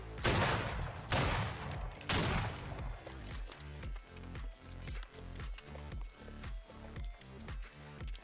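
Musket volleys crack out in the Civil War-era video game Battle Cry of Freedom: several big bursts early on, then a steady rhythm of scattered independent shots, close and loud, with no talking.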